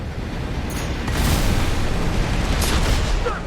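A sub-generator blowing up in Armored Core 6, heard as a loud, sustained explosive roar with a deep rumble and a few sharper crackling bursts over about three seconds.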